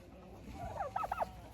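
Turkeys in a poultry pen, kept alongside young hens, let out a short burst of about four quick gobbles, faint against a quiet background.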